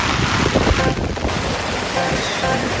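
Floodwater surging along a street in Kawasaki under continuous typhoon rain, a dense, loud roar of rushing water mixed with buffeting wind noise, steady throughout with no voices.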